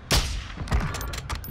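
Gunfire in Warzone 2: two or three sharp, loud shots ring out in quick succession with a short echoing tail, close by.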